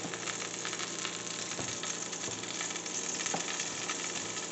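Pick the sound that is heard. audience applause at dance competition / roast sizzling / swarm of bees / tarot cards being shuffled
roast sizzling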